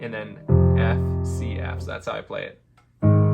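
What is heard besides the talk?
No everyday noise stands out behind the speech.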